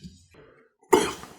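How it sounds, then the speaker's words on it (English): Sharp, loud coughing fit from a taster right after sipping 142 proof Jack Daniels Coy Hill whiskey, a burst of harsh coughs following a quiet moment with faint murmuring. "I think we've all coughed a little bit"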